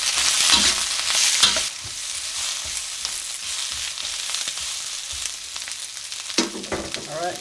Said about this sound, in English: next goes in the rest of our vegetables. Includes our mushrooms